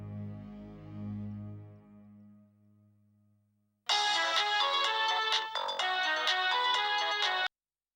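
A telephone rings at night with a bright electronic ringtone, loud and continuous for about three and a half seconds after a low, fading musical hum.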